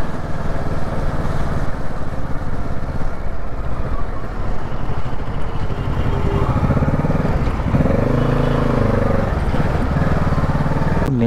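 A motorcycle ridden through a Nepali market, its engine droning steadily close by for the whole stretch, with busy street noise and a passing vehicle's pitch sweeping past around the middle.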